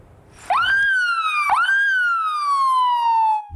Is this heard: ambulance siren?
yes